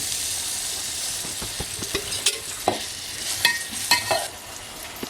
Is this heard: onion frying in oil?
yes